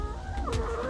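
A chicken clucks and squawks close by over a steady low background noise, a brief burst of fowl sounds.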